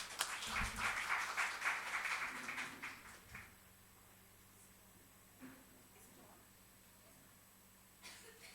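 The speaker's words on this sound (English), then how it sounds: "Can we start the session with a huge round of applause?" Audience applause opening a literature and art festival session in Bhopal, a brief burst of clapping in the first few seconds that quickly dies away, leaving a quiet hall with a few faint taps and shuffles.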